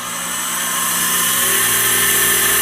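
A Campbell 750 CNC fixed-rail vertical universal grinder's spindle runs clockwise, giving a steady, loud, even machine whine with a constant hum and no voices.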